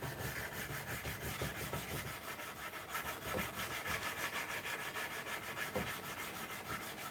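Wood being hand sanded with 180 grit sandpaper gives a steady, close, rhythmic back-and-forth scratching that runs throughout without pause, with no one talking.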